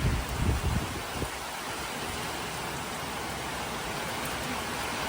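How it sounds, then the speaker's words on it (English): Light night drizzle falling, heard as a faint, steady hiss of fine rain on surfaces, with a few soft thumps near the start. "Bit of drizzle tonight."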